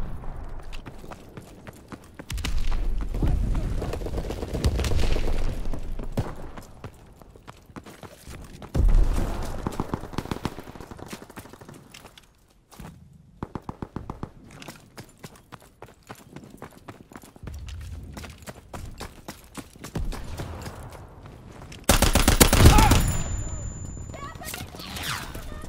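Gunfire in Call of Duty WWII on the Occupation map with an automaton rifle: bursts of sharp shots and clattering volleys come in irregular clusters, with louder booms and quieter gaps between them.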